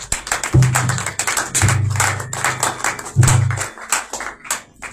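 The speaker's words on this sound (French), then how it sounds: "Sous vos acclamations, s'il vous plaît." An audience at a prophetic press conference claps in uneven bursts, sharp close hand slaps mixed with low thuds and a hum, with no one speaking.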